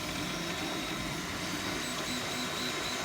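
A 3D printer prints layers as a steady, even mechanical whir and hum with faint tonal whines, running continuously at low level with no speech.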